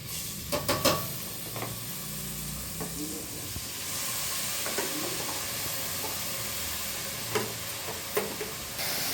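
Mushroom biryani ingredients stirred in a pot over a medium flame, with a steady frying sizzle and scattered scrapes and clinks of the spoon against the pot, close up with no talking.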